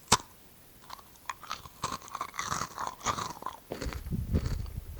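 Close, crisp crunching and chewing on dry snack pieces, a series of irregular bites and grinding chews with short pauses in between, intimate and fairly quiet.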